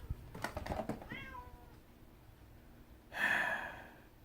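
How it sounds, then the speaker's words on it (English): A needy house cat gives a few short, close meows and chirps, followed by a louder, breathy whine near the end, with no speech. "If you don't love it, it makes all those little noises."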